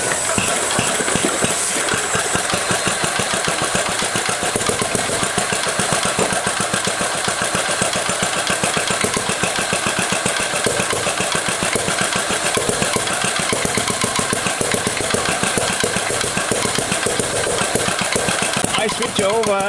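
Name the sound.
transparent combustion engine running with injection on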